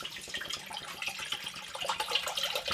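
Water poured from a 16.9-ounce plastic bottle, a steady close splashing trickle that continues for a few seconds with no talk over it.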